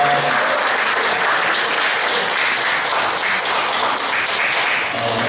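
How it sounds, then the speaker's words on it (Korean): Steady, dense applause from a church congregation at a Christian police mission joint worship service in Incheon, sustained and fairly loud for the whole stretch with no talking. "우리 세계교회 찬양팀 그리고 신강학교의 성도님들 위해서 다시 한번 박수하겠습니다"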